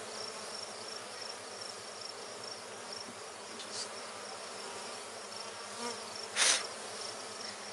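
Dense, steady buzzing of many honeybees in a hive, with a few louder bees passing close by.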